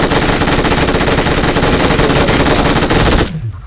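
Video game gunfire rattles out as one loud, sustained automatic burst of rapid shots, close and dense, cutting off abruptly near the end.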